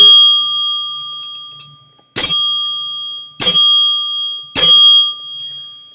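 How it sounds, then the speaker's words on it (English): Three loud, bright dings of a bell, evenly spaced about a second and a quarter apart, each ringing out and decaying over a steady electronic tone, with no voices. "There's 4 bell dingers for John Fishman."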